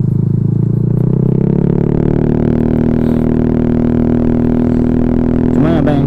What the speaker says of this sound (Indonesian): Suara merdu 4 silinder ya nggak bisa dibohongi lah, itu kan menjadi daya tarik.